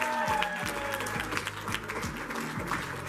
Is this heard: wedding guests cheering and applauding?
yes